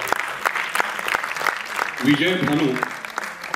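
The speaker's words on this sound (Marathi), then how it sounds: "त्यांचं आपण जोरदार टाळ्या वाजवून स्वागत करूया।" Applause welcoming a guest at an Anurag Kalyan 50th anniversary celebration, a scattered patter of claps with a voice speaking over it and a brief sung or called phrase midway.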